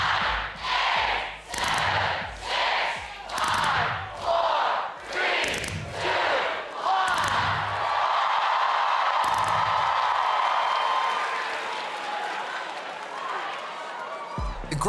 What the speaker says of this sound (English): Do you want to count us in, crowd? From 15?